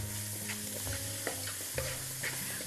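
Onion softening in a pan with a pinch of pepper, stirred steadily: a soft continuous sizzle broken by a few sharper scraping strokes of the spoon, close and alone with no voices.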